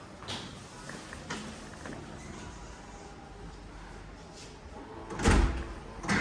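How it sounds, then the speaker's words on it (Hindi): A door is shut and locked, heard as a few thuds and a louder clunking knock near the end, faint and close against low background noise. "तो मैं देखो ज़रा दरवाज़ा बंद हुआ कि नहीं हुआ।"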